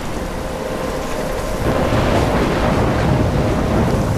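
Steady roaring storm in a mobile story video game, dense rain and wind noise with a low rumble swelling slightly louder partway through, with no voices.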